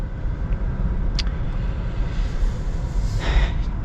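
A 2025 Cadillac CT5 with a 2.0-litre turbo engine pulling away, a steady low rumble of engine and road noise heard from inside the cabin, with a brief hiss near the end and no talking.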